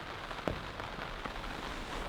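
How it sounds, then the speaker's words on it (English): Heavy autumn rain pours steadily at a park lake during carp fishing, a dense continuous hiss of drops striking nearby surfaces with a few sharper spatters, close and fairly loud throughout. "it's pouring with rain. You can probably hear it on the microphone"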